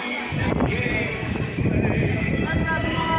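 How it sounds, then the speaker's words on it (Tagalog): Strong, steady wind roaring across the microphone throughout, with people talking underneath. "Lakas ng hangin"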